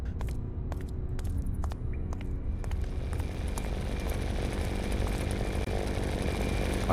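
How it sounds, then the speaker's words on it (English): Chainsaw of the killer in the horror game Hollowbrook Apartments, a steady droning engine buzz that holds throughout, with scattered sharp clicks and taps early on, no talking. "It sounds like his chainsaw."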